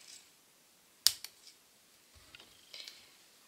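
Scissors snip thread on a handmade birthday card: one sharp, close click followed by a couple of fainter ticks and small handling sounds in a quiet room.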